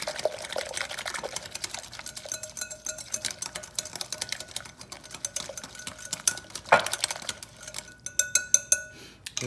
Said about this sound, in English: you're just gonna beat that nicely until everything dissolves